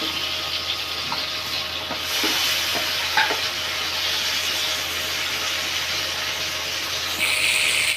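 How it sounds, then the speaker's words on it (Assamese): Potatoes frying in a pan, part of a mushroom masala curry, make a loud, continuous sizzle and hiss. Scattered clicks and stirring scrapes sit on top, and a brighter burst of sizzling comes near the end. "ইয়াতে মই আলুখিনি ভাজি ল'ম।"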